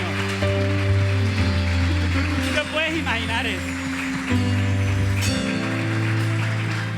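A church congregation claps steadily as a dense wash of applause, layered under sustained music tones and a voice speaking over it throughout.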